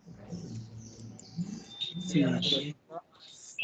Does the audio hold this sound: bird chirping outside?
yes